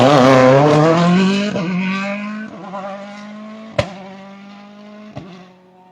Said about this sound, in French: Voilà, Tony Tranel sur le PH Sport WRC.